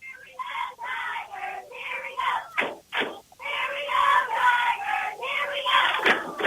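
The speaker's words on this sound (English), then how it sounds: "Good crowd here in Washington here tonight" Crowd at a Washington County high school football game against Bennington cheers and yells in swelling bursts, with crowd noise and an announcer's voice woven through.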